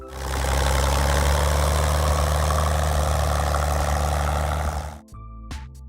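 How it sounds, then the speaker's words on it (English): A heavy diesel tractor engine idles loudly and steadily with a low rumbling knock, then cuts out near the end, followed by a couple of brief clunks. "The steady diesel engine sound echoed across Canadian fields."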